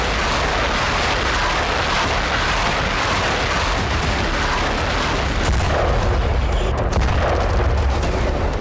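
Russian missile strikes and artillery bombardment on Ukraine make a dense, continuous roar of distant booms and gunfire, loud and unbroken throughout.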